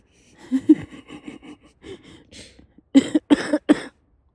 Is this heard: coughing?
yes